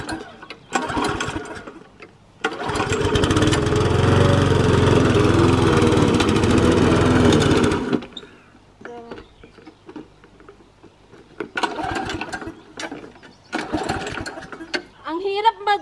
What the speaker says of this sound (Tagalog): Ang hirap mag-cut ng grass.